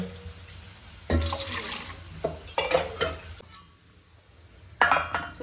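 Water poured glass by glass into a rice cooker for chicken biryani, heard as three short splashing bursts with faint clinks of the vessel between quieter gaps.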